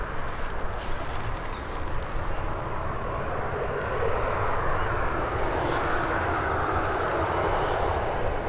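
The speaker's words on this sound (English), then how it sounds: "And Ryanair's now making its way onto the runway." A Ryanair airliner taxis onto the runway at Birmingham airport, heard as a steady, broad engine roar and rumble that holds at a moderate distance and swells slightly partway through, with no talk over it.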